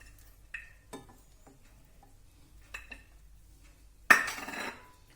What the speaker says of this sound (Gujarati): ડુંગળી નાખશું